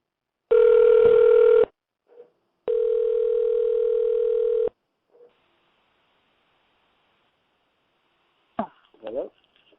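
Two steady telephone dial tones sound alone while a call is placed, each lasting one to two seconds with brief blips after them, then a short click-like ring burst near the end.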